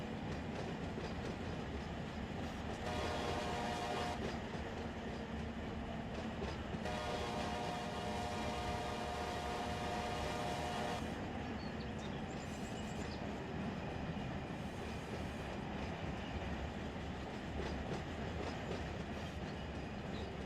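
A train running in the Run 8 train simulator game rumbles steadily with a low rolling drone, while a long horn sounds twice in sustained blasts, the whole scene loud and continuous.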